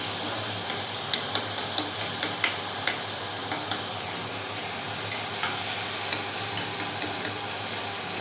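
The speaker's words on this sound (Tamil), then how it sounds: "நல்லா வதங்கட்டும் தக்காளி" Tomatoes sauté in a pan with a steady low sizzle, punctuated by scattered light taps and scrapes of a spoon stirring, fairly quiet and close with no talking.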